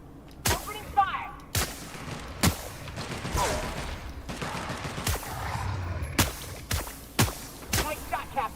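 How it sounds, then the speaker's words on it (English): Sharp gunshots from a firefight in The Outer Worlds, about a dozen loud cracks spaced irregularly across the stretch, some in quick pairs, with faint background game sounds between them. "Opening fire."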